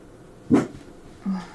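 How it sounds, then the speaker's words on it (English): A pet dog named Chappie indoors gives two short sounds, a sharp bark followed a moment later by a softer low woof or whine, fairly close in a quiet room with no talking. "Chappie, please don't bark."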